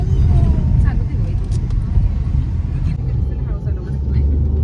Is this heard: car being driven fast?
yes